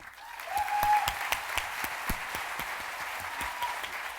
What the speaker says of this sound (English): a huge round of applause for Chase for Business